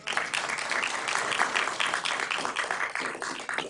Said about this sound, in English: we will begin with a round of applause for all of the candidates